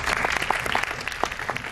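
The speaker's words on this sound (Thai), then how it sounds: "ขอเสียงปรบมือหน่อยครับ" Audience applause at a Thai zombie film press conference, a brief burst of dense clapping from a small crowd.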